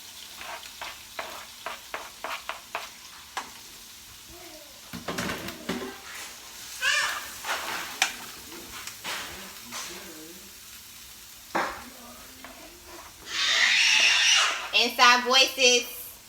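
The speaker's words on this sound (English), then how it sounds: "And I'm going to saute this while my black beans is drying out in the oven." Peppers and onion sautéing in a pan, bursts of sizzling and frying with utensil stirring and scraping, several clinks and taps, a louder sizzle near the end, with people talking in between.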